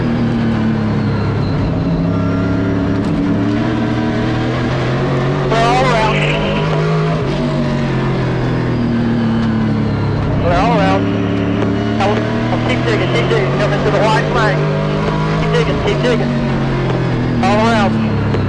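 A CARS Tour Pro Late Model race car at Southern National runs at full throttle: a loud, sustained engine roar with rising and falling revs through gear changes and corners, close and constant, with radio talk over it.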